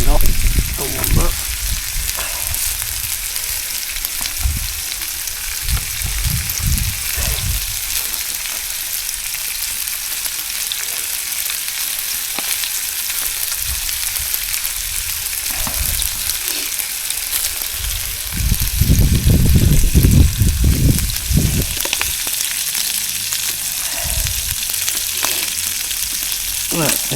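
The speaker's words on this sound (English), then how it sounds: "Look at that bubbly black pudding." Black pudding sizzles steadily in a pan at a rainy campsite, a continuous close frying crackle with bursts of louder spitting and a few stirring knocks, over the patter of heavy rain.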